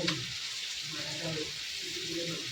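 Chilli chicken sizzles in a pan while being stirred, a soft steady frying hiss with faint scraping underneath, fairly quiet and close, no talk.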